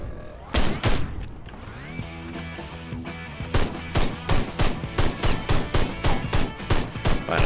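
Gunfire in Ride To Hell Retribution: a couple of heavy shots, then a steady run of loud, evenly spaced booming rounds with some mechanical clatter and a humming tone beneath.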